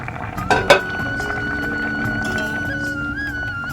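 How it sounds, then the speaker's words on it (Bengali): A metal lid lifted off a pot of bitter gourd boiling for a Bengali lunch, giving two close clinks and a scrape against a steady simmering hiss and faint kitchen tones. "এবার ঢাকনা খুলে দেখে নেব"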